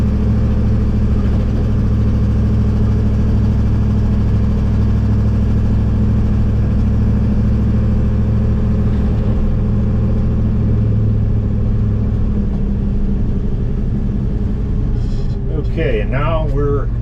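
A Ford F600 truck hauling corn on a rural road, its engine a steady loud low rumble from inside the cab, easing off near the end as a voice briefly speaks.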